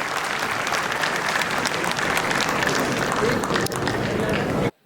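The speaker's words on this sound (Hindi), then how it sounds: "एक बार जोरदार तालियां उनके लिए होनी चाहिए" Steady, dense applause from a large crowd at a Hindu festival gathering in Delhi, continuous clapping at even strength for nearly five seconds before cutting off sharply.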